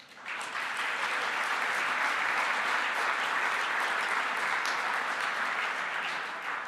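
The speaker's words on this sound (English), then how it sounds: "Give yourself a round of applause." Sustained audience applause fills a room at a charity gala, a steady roar of many hands clapping together, loud and continuous after a quick onset and easing slightly near the end.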